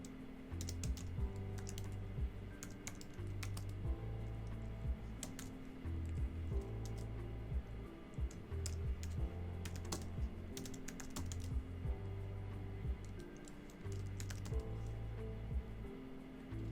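Fast, irregular keystrokes on a computer keyboard clatter close by in bursts with short pauses, under a low steady background tone.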